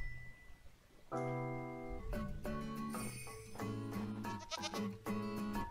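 A goat in a video game lets out several drawn-out bleats in a row, loud and close, with short gaps between cries and no talking over them.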